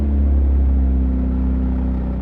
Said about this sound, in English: Why is this thing idling high all of a sudden for no reason?